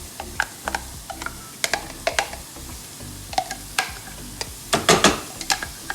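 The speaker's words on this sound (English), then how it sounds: "At this point, I'm adding in our mushroom." Mushrooms tossed into a pan of nearly done frying onions, with a soft sizzle under the stirring. A spatula clacks and scrapes against the pan in irregular strokes, close by, building to a busier burst near the end.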